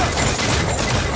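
Dense, continuous booming volleys of ship cannon fire in the pirate-era game Assassin's Creed Freedom Cry, loud and sustained with overlapping blasts throughout.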